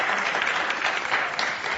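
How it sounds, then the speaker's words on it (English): Audience at a school public relations conference applauds a panel, a brief, dense burst of many hands clapping in steady close applause. "Can we give them a round of applause?"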